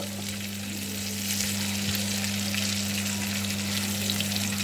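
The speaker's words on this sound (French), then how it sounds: "Je vais mijoter un peu" Beef liver sautéing and simmering in a pan, a dense continuous sizzle that swells slightly after a second, with a low steady hum underneath.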